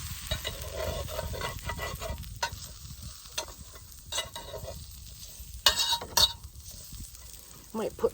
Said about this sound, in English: we're just gonna coat the sausage and everything in the pan